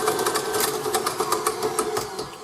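A newer KitchenAid stand mixer with the whisk attachment whips at speed, a steady close whirring with a fast rhythmic ticking of the whisk throughout.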